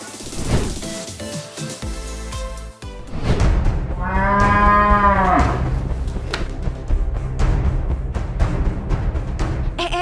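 A cow gives one long, loud, nearby moo midway through, surrounded by background music and clattering, with no one speaking.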